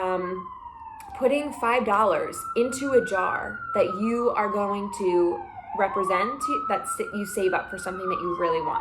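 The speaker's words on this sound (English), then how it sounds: "or sorry for the sirens" Wailing emergency vehicle siren passes outside, its rising and falling tone running steadily throughout at moderate volume beneath a woman's continuous indoor speech.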